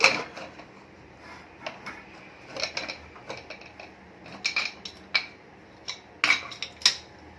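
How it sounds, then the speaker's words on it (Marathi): A stovetop pressure cooker holding cooked khichdi, cooled after three whistles, is opened: close-range metallic clinks, scrapes and lid rattles come in short irregular bursts, busier toward the end. "आता तीन शिट्ट्यांनंतर आपला कुकर गार झालेला आहे तर ह्याला खोलून बघूया"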